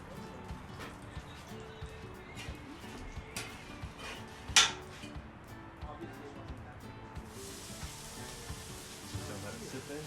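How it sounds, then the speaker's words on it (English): Oil and carne asada sizzle on a Blackstone griddle, a low steady frying hiss with a sharp metallic clatter of tools partway through and a brighter burst of sizzling near the end, under someone talking. "So let it sit there, sizzle."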